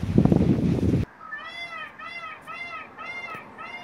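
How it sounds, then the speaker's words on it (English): A cat meows in a quick series of short, rising-and-falling cries right after a loud burst of noise cuts off, fairly close and clear with no talking. "Crazy cat."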